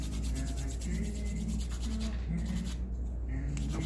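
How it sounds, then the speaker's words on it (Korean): Steady rubbing of stick sandpaper on a custom Nendoroid figure scrapes back and forth in quick strokes, close by, over a low constant hum. "지금 쓰시는 그 사포 지금 갈려요? 완전 잘 갈려요."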